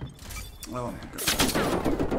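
Rapid automatic gunfire from a sentry gun in a Call of Duty match, loud bursts of shots close by and overlapping with an excited player voice talking throughout.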